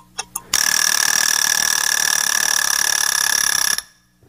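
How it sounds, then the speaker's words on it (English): The Clock Pro iPhone app timer gives two quick ticks, then a loud, steady electronic buzzer rings for about three seconds before cutting off sharply. "that's the tick-tick sound that you could turn on and off before the buzzer goes off"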